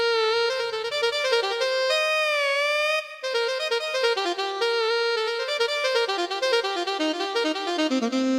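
Casio WK-6600 keyboard carrying a continuous solo melody in Thai Isan style, its tones gliding and bending up and down between notes in an ornamented, vocal-like way, played loud and close without speech.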